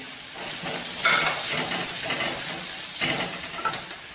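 Spicy masala egg fry sizzles in a hot pan on low heat, with bursts of scraping as it is stirred, a steady close crackle throughout.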